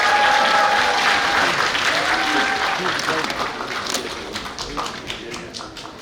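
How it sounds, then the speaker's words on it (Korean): An audience at a political party launch ceremony breaks into loud, dense applause that fades gradually, with a faint voice over the sound early on. "큰 박수로 환영해 주십시오."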